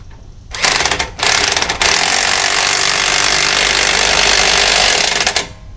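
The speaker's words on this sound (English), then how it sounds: "This impact gun should pull it" An impact gun hammers loose the strut end link nut on a 2007-2013 GMC Acadia, a loud, close, continuous rattling burst with short pauses early on and then a sustained run of about four seconds, with no talk.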